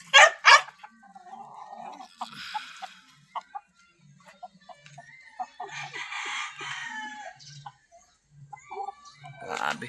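White Leghorn chickens, including a rooster giving loud crows, mixed with clucking and a dog barking nearby, several calls spread across the stretch without talk.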